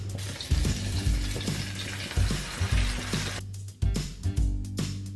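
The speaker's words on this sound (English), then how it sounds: "you're going to slightly put the burrito in the oil, and if it starts to bubble, it's ready to cook" Bean and cheese burritos frying in bubbling oil, with crackling sizzle and spattering that stays continuous for several seconds, then settles into a sparser, popping fry punctuated by sharp bursts.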